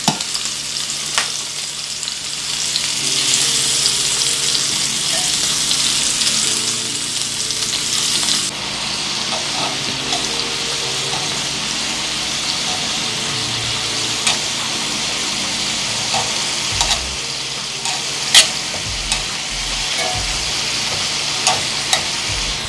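Shrimp sizzling steadily in a hot pan, a loud, close, continuous frying hiss with occasional stirring clatter and small pops, no voices.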